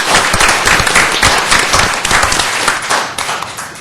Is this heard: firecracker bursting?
no